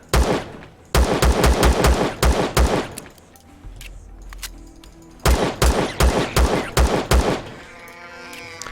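Automatic gunfire in the Empyrion sci-fi survival game, with two close, loud bursts of rapid rhythmic shots separated by a short quiet gap, and a rumbling tail after the second burst.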